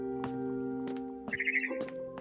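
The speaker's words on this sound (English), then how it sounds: "Then I heard chirping outside my window." A barn swallow chirps outside a window in What Remains of Edith Finch, giving a few short, clear twittering calls over a steady tonal game backdrop.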